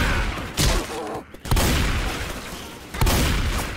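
Gunfire in the Left 4 Dead 2 video game, with three loud broadband bursts at roughly 0.6, 1.5 and 3 seconds over a dense, continuous layer of game noise and action.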